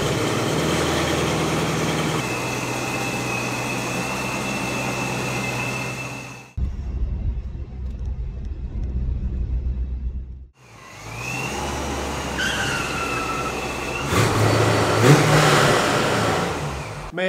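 A C5 Corvette with the roof off idles with a steady rumble, then pulls away through several revving accelerations, the engine note swelling and dropping with wind noise between pulls and no speech.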